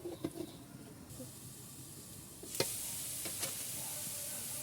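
Oil begins sizzling in a pan of mashed vegetables being fried for a Bengali bhorta, a soft hiss that swells to a steady, close fry partway through, with a few sharp stirring scrapes and no talking.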